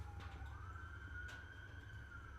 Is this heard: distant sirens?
yes